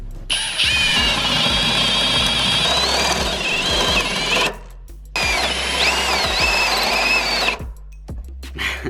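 A power drill whines loudly in two long bursts, pitch wavering as it bites into wood and hits its overload, with a brief pause between and a stop near the end.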